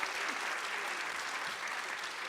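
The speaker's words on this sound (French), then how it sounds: "On peut l'applaudir" An audience at a talk applauds with steady, even clapping that fills the whole moment at moderate volume.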